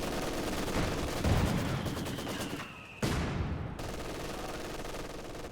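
Machine gun fire from a Company of Heroes 2 match: a dense, sustained battlefield din of rapid gunfire that keeps rolling, with a sharp burst partway through and no talk over it.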